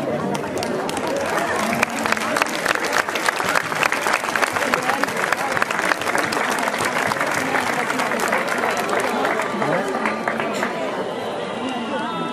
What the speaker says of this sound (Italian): Invito ancora il pubblico a fare un calorosissimo e forte applauso a questi meravigliosi sposi